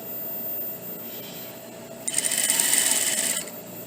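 A sewing machine stitches a shirt collar into a bodice in one short, steady whirring burst of about a second after a quiet pause, close by.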